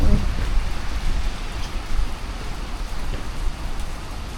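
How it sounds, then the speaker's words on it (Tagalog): Steady heavy rain from a typhoon pours down nearby, a dense, constant wash of patter and hiss with faint low rumble underneath. "Sobrang ulan."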